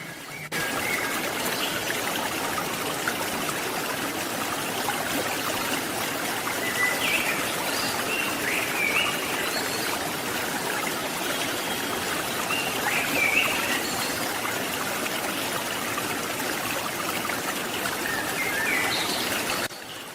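Flowing river water runs as a steady, even wash of trickling sound throughout, with faint bird calls chirping intermittently in the background and no voices.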